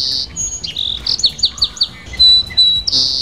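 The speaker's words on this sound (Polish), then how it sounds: "Znowu ćwierkają, ale przyjemnie się ich słucha." Birds chirping in an outdoor setting, bright short tweets and trills repeating in quick bursts, close and clear against a quiet background, with no voices.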